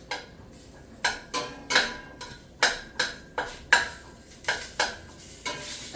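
Italian sausage sautéing in olive oil in a pan for Tuscan soup, heard as a spatula clanking and scraping the pan in regular strokes about twice a second, close and fairly loud, with only a faint sizzle beneath.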